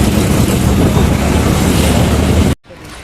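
Auto-rickshaw ride through traffic outside Satara station, a loud, steady engine rumble and road noise with wind buffeting the microphone, cutting off abruptly near the end.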